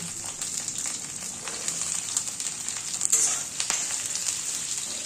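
Cauliflower and cabbage stems fry in hot spiced oil with a steady, close, bright sizzle and crackle throughout, a few louder spits and stirring scrapes breaking through.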